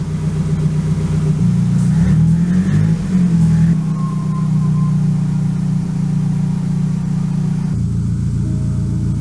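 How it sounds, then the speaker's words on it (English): A Nissan S15 car's engine revs and rumbles steadily up close as it pulls out of a garage, with a louder surge of throttle early on before settling into a constant drone that drops slightly near the end. "Now I can move the car out and start cleaning the garage a little bit"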